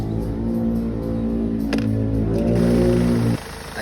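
A Hyundai Starex with a D4CB diesel engine idles just after starting while still cold, a loud, steady low drone with a brief rise in pitch near the end before the sound drops off abruptly.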